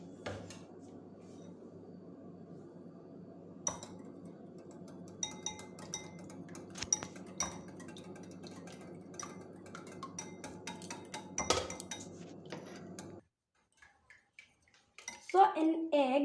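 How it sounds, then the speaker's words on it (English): Egg and chopped vegetables being stirred in a bowl, with a steady run of light utensil clicks and taps against the dish, a faint background hum, and a couple of sharper knocks before it goes quiet. "now I will mix it"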